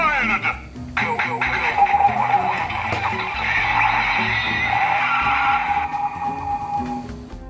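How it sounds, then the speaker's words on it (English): Electronic transformation call from a DX Kamen Rider Drive Driver toy belt, a loud, busy burst of synthesized music and voice effects running for several seconds before dropping off. "The Drive Driver has alternative sounds for each drive type that places an extra word in front of the transformation name call"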